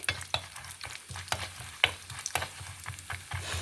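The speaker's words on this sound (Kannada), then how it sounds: "ಕಪ್ಪು ನೆಲಕಡಲೆ ಕಡಲೆಬೇಳೆ ಉದ್ದಿನಬೇಳೆ ಸಾಸಿವೆ ಜೀರಿಗೆ ಹಾಕಂತ ಇದ್ದೆ" Peanuts, chana dal, urad dal, mustard seeds and cumin seeds frying in a pan for avakai pulihora, a steady close sizzle broken by repeated scraping stirs, with no talking.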